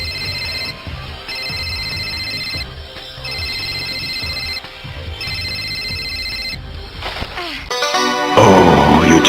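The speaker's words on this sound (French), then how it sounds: "Allez, Yumi, décroche." A telephone ringing while waiting for pickup: loud repeated electronic rings in an even pattern of pulses and gaps, followed by a harsh crashing noise at the end.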